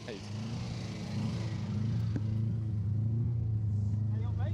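A small micro rally kit car's engine drones and rises as it passes on a rally stage, rumbling at moderate distance over continuous outdoor background noise.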